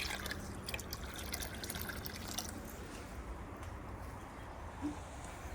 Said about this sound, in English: It's draining slowly.